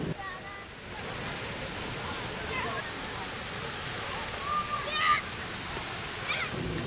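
A park fountain set between two museums splashes and rushes steadily, a continuous wash of falling water with faint background voices.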